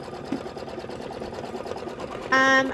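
A sewing machine stitches the quilting on an ice cream bar block for a bench pillow, starting up briefly near the end as a short, close, steady mechanical whir.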